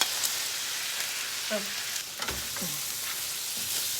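Onions and carrots sizzle and crackle in a pan with a bright, steady hiss, broken by a few brief scraping stirs.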